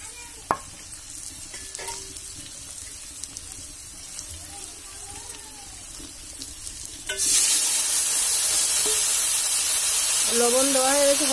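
Ground cumin and chili paste fried with potatoes, salt and turmeric in a pan: quiet stirring and scraping at first, then a loud steady sizzle that takes over for the last few seconds, with a voice briefly over it.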